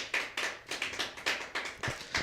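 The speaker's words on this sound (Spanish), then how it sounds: "De verdad se merecen un fuerte aplauso porque están aprendiendo" Short, fairly faint burst of hand clapping from a church congregation, quick regular claps repeating for a couple of seconds.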